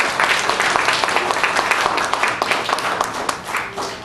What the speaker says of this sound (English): Please give a big welcome and a round of applause for Jeff Cawley,